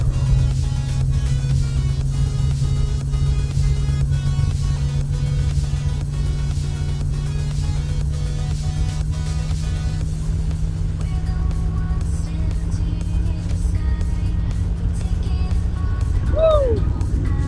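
A 1994 Corvette C4 engine drones steadily at highway cruising speed, a loud, constant low hum with tire and wind roar, fading near the end as a brief rising tone appears.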